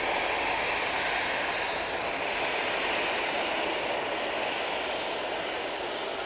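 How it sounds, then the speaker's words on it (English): Steady, loud jet engine roar from a British Airways Airbus A319 departing Manchester Airport for London Heathrow, a continuous broadband rush with a slight swell near the end and no talking. "British Airways A319 going back to London Heathrow."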